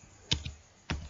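A few keystrokes on a computer keyboard while typing into a spreadsheet cell: two or three crisp, close clicks spaced irregularly over a quiet background, with no talking.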